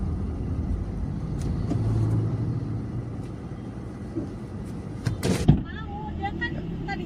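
A Gocar ride car in Lampung pulls away with a low engine rumble heard from inside the cabin, then a cluster of thumps and clatter near the end, with faint voices in the background.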